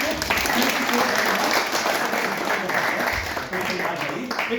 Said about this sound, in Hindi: तालियों के साथ खत्म करेंगे इस सेशन को।